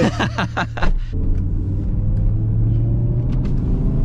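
A 6-speed BMW M5 pulls away with a deep, steady engine drone and low rumble that holds loud and close for several seconds after a brief burst at the start.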